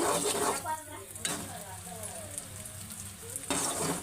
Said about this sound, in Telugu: కొంచెం సిమ్లో పెట్టుకొని ఒక 5 నిమిషాల పాటు అలా వేపుకోవాలన్నమాట.